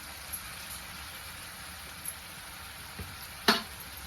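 Chopped tomato and onion fry in a pan with salt, making a soft, even sizzle, with a few light clicks and one sharp utensil knock near the end.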